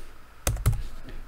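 A computer keyboard is typed on in the dark, with two sharp close key clacks in quick succession followed by a faint tap, over a steady low hum.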